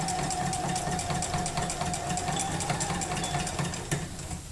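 A sewing machine free-motion quilts gentle curves, its needle hammering in a fast, steady, loud rhythm throughout as the fabric is moved back and forth.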